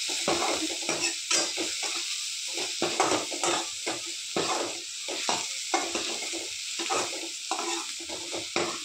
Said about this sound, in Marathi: आता हा व्यवस्थित फ्राय होऊ द्यायचा आहे.